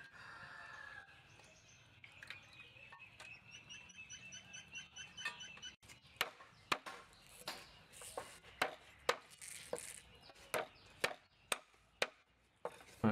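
A knife chops garlic and chilies on a board in a steady run of sharp, close knocks that grow regular and louder, with a rooster crowing faintly in the background earlier on.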